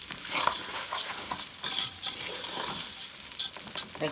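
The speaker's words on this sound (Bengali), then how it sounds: "এখন চালগুলোকে এরকম ভাজা ভাজাই করতে হবে" Rice being stirred as it fries in a pan for Egyptian rice, a steady sizzle with repeated scraping strokes of the spoon, close and continuous with no talking.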